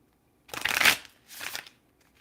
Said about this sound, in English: My brand new cards that I've never read. This is my first time shuffling them